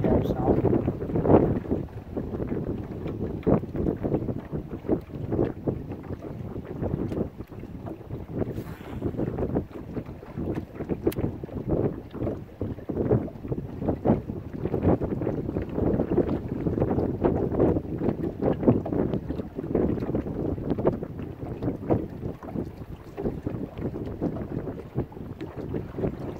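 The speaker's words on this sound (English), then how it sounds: "A serious amount of wind here" Strong wind buffets a fishing boat out on choppy water with whitecaps, roaring in gusty bursts across the microphone throughout with the low wash of water beneath.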